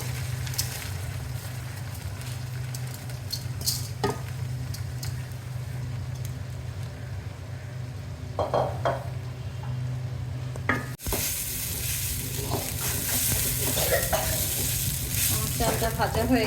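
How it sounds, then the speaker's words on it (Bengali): Rice frying in a pot with cardamom pods for chicken biryani, a continuous close sizzle with scraping stir strokes, then a louder, brighter hiss over the last few seconds. "চালটা ভাজা হয়ে গেছে"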